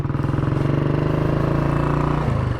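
A 1959 BSA C15 motorcycle ridden along a Fenland road, its single-cylinder engine thumping in a steady, loud, close rhythm that shifts slightly in pitch partway through.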